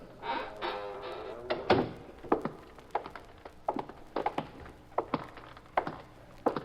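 A warehouse door being shut in an old radio drama, with a scraping creak and a solid thunk, followed by a steady series of close footsteps walking away across a hard floor.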